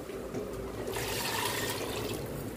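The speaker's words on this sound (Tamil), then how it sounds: "இப்போ இதுலேயே நான் தேங்காய் பால் ஊற்றிடுறேன்." Coconut milk is poured into a pan of pumpkin and field bean kulambu, a steady close-up rush of liquid that starts softly and swells into a louder, fuller pour midway, with no talking.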